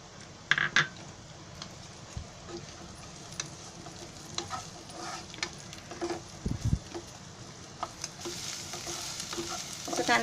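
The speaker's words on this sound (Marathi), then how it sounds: "आता मग ग्रेव्हीची फ्राय करते. ते ना हा कांदा टाकते." Onion frying in oil for a chicken chili gravy makes a faint, steady sizzle and crackle, broken by scattered soft clicks and scrapes of a spoon over about ten seconds. It is quiet throughout, with no speech.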